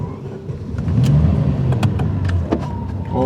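A 1988 Ferrari Testarossa engine heard from inside the cabin, a steady low, fairly quiet drone with a mild rise in revs around the middle, and faint interior clicks over it.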